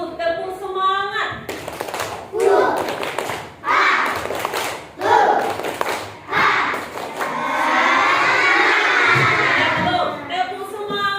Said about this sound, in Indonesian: Sebelumnya kita lakukan dulu tepuk semangat.